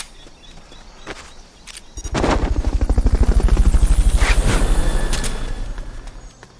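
A video game helicopter's rotor thumps in a fast, steady pulse, swelling loudly as it comes close and then slowly fading, in Metal Gear Solid: Peace Walker.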